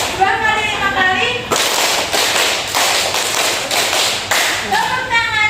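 A group claps hands together in several quick rhythmic bursts, with voices speaking or singing before and after the clapping.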